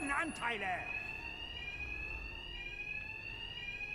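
Alarm ringing in the video game Batman: Arkham Knight, a piercing continuous electronic tone holding steady for several seconds, entering after a brief burst of speech at the start.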